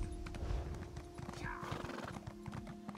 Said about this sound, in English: Getting on the horsey. Giddy up, horsey.